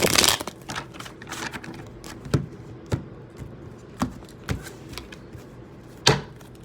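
A tarot deck is shuffled by hand, giving a soft papery riffle at first, then a series of sharp, separate card taps and snaps spaced about half a second apart, close and fairly quiet.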